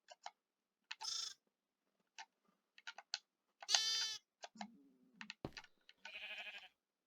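Sheep in the video game Minecraft bleat in short separate calls, close and clear, several bleats scattered among bursts of keyboard typing and small game clicks.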